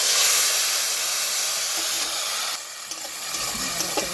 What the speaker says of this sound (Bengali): এখন দিয়ে দেবো 4টি পেঁয়াজ বাটা করে নিয়েছি